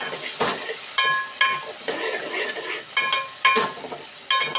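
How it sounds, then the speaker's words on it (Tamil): Tomatoes frying in a pan for a Tamil-style murrel fish curry, with steady sizzling under repeated utensil stirs and scrapes, close and moderately loud. "ரெண்டு தக்காளி போட்டாச்சுல இதே நல்லா வதங்கட்டும் கொஞ்சம் சிம்மில் வச்சுக்கணும் அடி பிடிச்சிடக்கூடாது"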